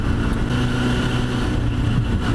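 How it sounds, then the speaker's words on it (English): A 1996 Yamaha FZR-600 motorcycle with a Vance & Hines aftermarket exhaust idles with a steady, deep, throaty hum, close and continuous with no talking. "It has a Vance & Hines exhaust. Oh my gosh, it's got a nice hum to it."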